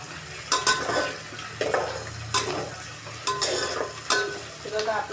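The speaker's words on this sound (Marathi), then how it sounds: "आपला कांदा आणि लसूण मस्त परतत आलेला आहे" Chopped onion and garlic sauté in a pan with a continuous sizzle, broken by repeated loud scraping stirs that come every second or so, close and with no one talking.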